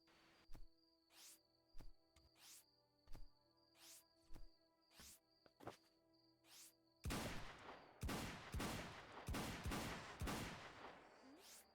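In the video game Starbound, a shotgun fires in a steady series of sharp blasts about once per second over a humming game backdrop. These give way to faster, denser bursts of shots near the end.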